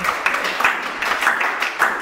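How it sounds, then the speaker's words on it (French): A church congregation at a Saturday night vigil claps together, a continuous rippling applause with several louder bursts, moderately close and steady across the whole stretch. "Applaudissons les autres nations"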